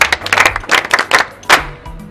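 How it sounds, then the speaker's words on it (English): An audience claps for a participant after a quiz answer, a short run of uneven, close handclaps in separate bursts, loud and fairly sparse. "Please clap for her."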